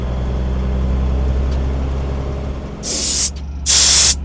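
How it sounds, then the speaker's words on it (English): Compressed air hisses out in two sharp, loud bursts as a truck's trailer brake is released, heard close over the steady low idle of the running truck engine. "Now I'm gonna go inside and release my trailer brake, and we should have airflow."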